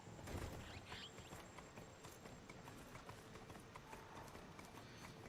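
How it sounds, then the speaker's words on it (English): Horse hooves clip-clop at a steady trotting rhythm in a video game, close and continuous over a dense, noisy ambient bed, with no voices. "Clip clop, clip clop."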